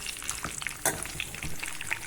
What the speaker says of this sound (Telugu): అలా ఆయిల్ వేసుకొని అందులో ఫ్రై చేసుకోవాలి